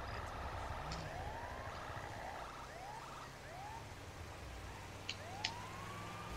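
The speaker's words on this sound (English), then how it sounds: "Turn off this damn siren." A police car siren wails with rising sweeps repeating over a steady rumbling engine and road noise, fairly faint and mixed into the background.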